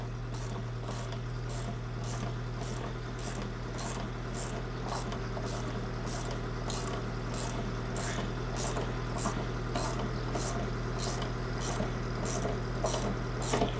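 A hydropneumatic Citroen engine idles steadily with a blowing middle exhaust leak, giving a constant low hum under a rapid, regular ticking puff that repeats throughout at close range.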